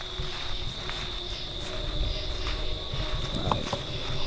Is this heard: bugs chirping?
yes